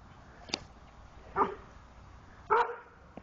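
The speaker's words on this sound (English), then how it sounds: "Who's barking?" A dog gives three separate barks, spaced about a second apart, moderately near and fairly loud against a quiet background, with no talking between them.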